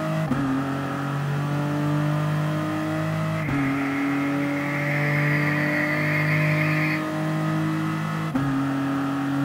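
Car in GT Sport accelerating hard, the engine note climbing steadily through several gear changes with brief dips between shifts, loud and continuous.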